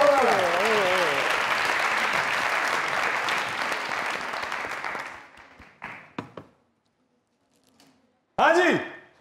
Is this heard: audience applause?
yes